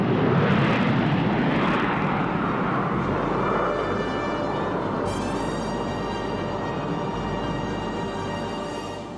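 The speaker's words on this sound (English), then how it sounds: "the naval Rafale is the plane that has the lowest landing speed in the world" A naval Rafale fighter jet landing on an aircraft carrier makes a loud, broad engine roar that swells and then slowly fades as it comes in.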